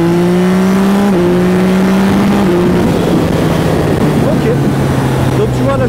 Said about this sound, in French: on est en boîte auto soft et on va accélérer un petit peu pour voir ce que ça donne.